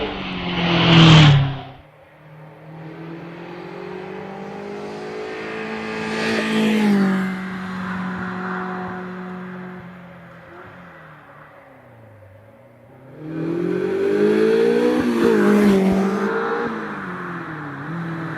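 Caterham 7 sports car racing at the Doune hillclimb, engine rising and falling as it revs through gears, a sharp loud burst at the start, then fading away and swelling again in the distance.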